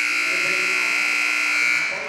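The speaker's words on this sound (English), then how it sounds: "Saved by the buzzer." A wrestling match buzzer at a championship meet blares as one loud, sustained electronic buzz lasting about two seconds before fading at the end.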